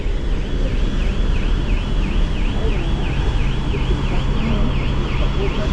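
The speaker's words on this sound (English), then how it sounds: "Somebody's going to have to go down and turn that off." A car alarm blares on a ship's vehicle deck, its warbling tone rising and falling in a steady loop over loud engine and ventilation rumble, continuous and fairly prominent throughout.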